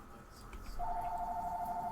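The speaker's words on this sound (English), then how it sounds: "that phone is loud" A telephone rings loudly inside a house during a zoo-building game, a steady electronic two-tone ring starting partway through and continuing to the end over faint background.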